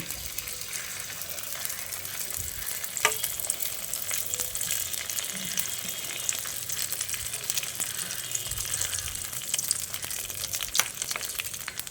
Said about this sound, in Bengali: সর্ষের তেলটা ভালোভাবে গরম হয়ে এলে এবার আমি এর মধ্যে মাছের ডিমটা দিয়ে দিচ্ছি